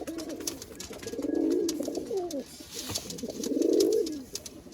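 Malwai pigeons coo up close in low, rolling, throaty phrases, two longer swells separated by shorter warbling calls, with faint clicks in the background.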